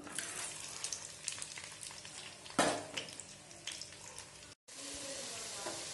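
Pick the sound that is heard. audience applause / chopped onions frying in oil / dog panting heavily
chopped onions frying in oil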